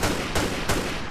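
Grand Theft Auto 4 gunfire: three sharp, evenly spaced shots crack over a loud, busy game backdrop in quick succession.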